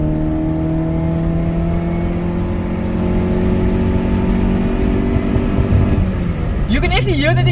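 Honda SOHC VTEC car pulling away in first gear, a steady, droning exhaust note rising slightly in pitch at close range, with a voice cutting in at the end.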